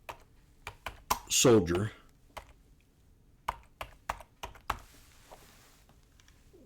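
Typing on a computer keyboard, a series of sharp separate key clicks spread irregularly through the moment, with a brief spoken word early on and a soft hiss near the end.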